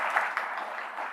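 Audience applause after a conference talk on industrialisation, a steady wash of clapping from many hands held evenly throughout, with no talk over it.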